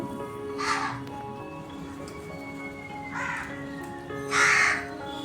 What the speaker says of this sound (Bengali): আর এইদিকে হয়েছে এই কাকগুলো